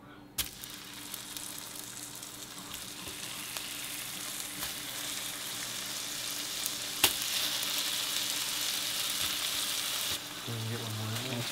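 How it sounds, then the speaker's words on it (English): Pheasant breasts sizzle steadily in butter in a pan, a close, continuous frying hiss with a few small pops and a brief clatter near the end. "We got all of our breasts in there with a little bit of butter in there, and now we're just gonna let them cook."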